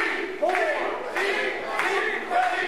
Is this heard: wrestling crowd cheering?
yes